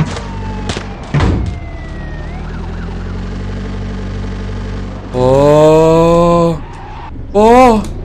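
A police car siren wails in the driving game Grand Criminal Online, with rising and falling tones that swell in bursts among engine noise and other game sounds, while a player talks over it.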